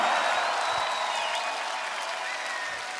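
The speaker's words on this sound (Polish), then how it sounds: "Powitajcie ją oklaskami!" Concert crowd applauding the Gorzów Philharmonic Orchestra as it comes onstage at the Woodstock 2014 festival; dense, steady clapping and crowd noise from a large open-air audience, holding at an even level throughout.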